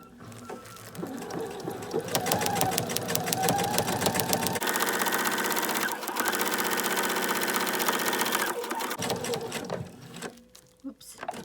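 A sewing machine runs a straight stitch through plush minky microfiber fabric at a half-inch seam, a fast steady mechanical whir with rapid needle clatter, loud and close, pausing briefly and slowing to a stop near the end.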